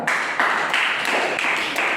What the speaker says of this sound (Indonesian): Tepuk tangan dulu kita.